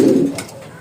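A pair of Baghdadi homa pigeons, male and female, giving a single close, loud, low coo that swells briefly and then fades into quiet.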